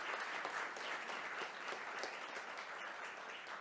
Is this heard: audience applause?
yes